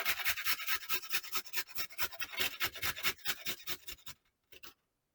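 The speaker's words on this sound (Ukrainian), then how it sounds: "моркву натираю на крупні терці." Rapid rhythmic rasping of a carrot scraped across a coarse grater, steady strokes close up for about four seconds, then a brief final scrape after a pause.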